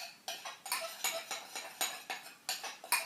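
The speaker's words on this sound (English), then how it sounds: "So we give that a good stir." A bath soak mixture is stirred in a bowl, a quick rhythmic series of close, bright scraping clinks, about a dozen strokes in three seconds, each a short swish with a sharp edge, with nothing else heard.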